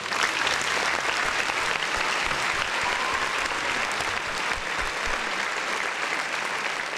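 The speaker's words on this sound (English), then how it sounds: "Another round of applause for the folks in the chat." Dense, sustained applause from a crowd fills the whole stretch, even and moderately loud without pauses.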